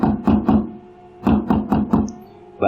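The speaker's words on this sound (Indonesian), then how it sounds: "Tiba-tiba Bu Asih mendengar orang mengetok-ngetok pintu." Someone knocks on a door with loud, close knuckle raps: a quick set of three, a pause, then a second set of four, with one more knock starting at the end.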